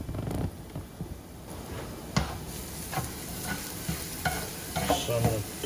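Sauce for a filet mignon wrap bubbles and sizzles in a pan, a soft continuous frying hiss with scattered pops and stirring clatter, fairly quiet with no talking.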